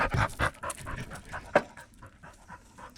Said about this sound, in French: Mais t'arrêtes avec ce petit chien.